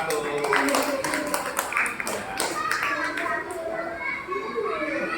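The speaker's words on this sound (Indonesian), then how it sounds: "Yuk tepuk tangan untuk nomor 1." Schoolchildren in an elementary classroom clap together for group number one, the patter of many small hands blending with children's voices and chatter throughout.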